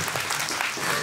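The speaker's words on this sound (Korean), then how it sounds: "박수 한번 쳐주세요" Applause from an audience at a teacher-rapper's solo concert, a short steady patter of many hands clapping at moderate volume, with no voices standing out.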